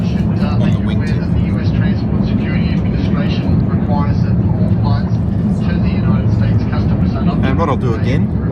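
Steady, loud airliner cabin roar during the climb, a broad low engine and airflow rumble that stays constant throughout, with faint talk beneath it.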